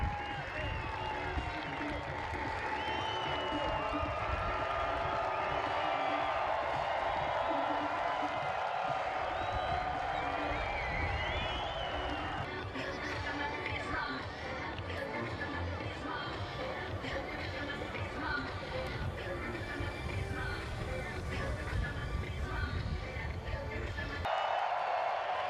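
A sold-out home crowd of soccer fans at the Phoenix Rising FC complex cheers, claps and chatters as the club introduces new striker Drogba, a dense, continuous roar of voices and applause throughout.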